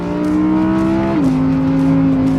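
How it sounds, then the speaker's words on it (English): An Audi R8 GT's naturally aspirated V10 holds a loud, steady tonal drone that drops to a lower pitch partway through as revs settle, close and continuous with no talking. "This of course is the R8 GT. Naturally aspirated V10."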